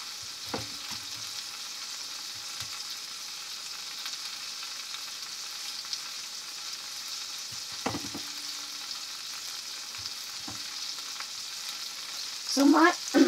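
Garlic parsley butter sizzles steadily in a hot pan, a constant hiss with a few brief utensil clinks and scrapes, and a louder rattling stir near the end.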